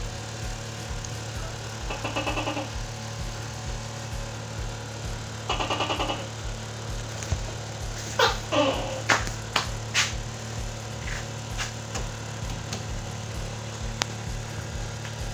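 A motorcycle engine idles with a steady, even throb during an engine carbon cleaning, a few short metallic clatters breaking through midway, with no speech.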